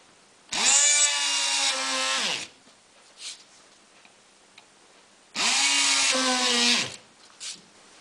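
A power drill bores holes through a homemade circuit board for a DIY FM radio, two loud sustained whining runs of about two seconds each with a pause between them, plus faint small clicks.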